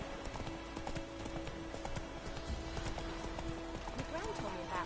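Roach the horse's hooves clip-clopping in a steady walking rhythm in The Witcher 3 on PS4, close and clear over faint ambient background, with a voice speaking.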